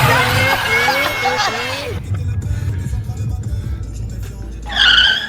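A go-kart on a karting track in Montpellier skids and drifts, its tires squealing in wavering bursts over engine noise, fading and then squealing again near the end, with voices talking over it.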